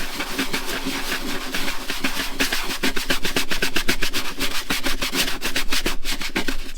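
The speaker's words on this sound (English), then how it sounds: "So I've just been getting the scrubbing brush, literally scrubbing the floor." A stiff scrubbing brush works hard over a textured floor sprayed with multi-purpose detergent, giving a loud, steady run of rapid rasping strokes that quicken into a fast back-and-forth rhythm up close, with no voices.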